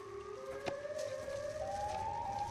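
A siren tone in a horror film slowly rising in pitch, holding steady and fairly loud, with a sharp knock partway through.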